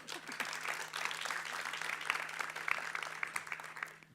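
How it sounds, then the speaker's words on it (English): An audience applauds at an urban research conference, a steady spread of clapping hands heard at a distance. "I think that requires another round of applause."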